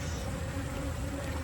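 Honey bees buzzing around an open beehive during a summer nectar dearth, a dense steady drone from many bees close by, constant and unbroken with no talking.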